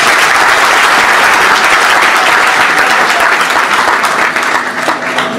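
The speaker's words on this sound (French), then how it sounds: "Applaudissez pour vous." A large audience at a company conference claps loudly and steadily for several seconds, the dense patter of many hands filling the room and easing slightly toward the end.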